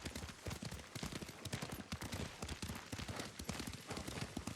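Horse hooves clop rapidly at a gallop while riding in the video game Ghost of Tsushima, a dense steady rhythm of hoofbeats mixed with other game sounds and no speech over them.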